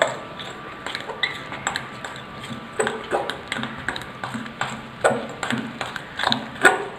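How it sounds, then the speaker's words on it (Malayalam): A metal fork clinks and taps against a bowl in irregular bursts while soy sauce marinade is mixed for dragon chicken, with sharp pings scattered over a quiet background. "ഇത്രയും എല്ലാം കൂടി ഒരു ഫോർക്ക് ഉപയോഗിച്ചൊന്ന് മിക്സ് ചെയ്യാം."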